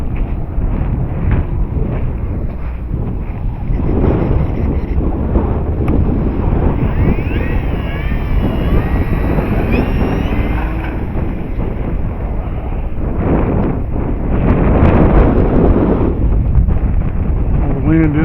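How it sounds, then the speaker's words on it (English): Strong wind roars steadily and loudly across the microphone at an outdoor model plane flying field, gusting harder toward the end. "The wind is getting brutal up there."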